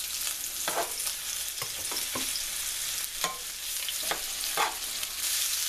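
Beef cubes searing for beef stew in a frying pan give a continuous close sizzle, broken by several short scraping stirs of the meat at irregular intervals, with no talking.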